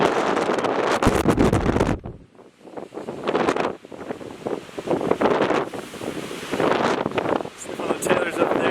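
Heavy wind gusts on a mountain viewpoint along the Shining Creek-Old Butt Knob Loop Trail roar loudly against the microphone, with a short lull in the middle, while a person speaks over the buffeting.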